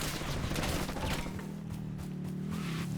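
Rapid bursts of gunfire crackle through a dense, noisy mix in Call of Duty Black Ops 6 Warzone heist mode, with a low droning hum underneath throughout.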